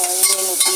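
Onion hits a hot pan and sizzles in a bright, hissing frying crackle, with a couple of stirring scrapes breaking the steady sizzle close by.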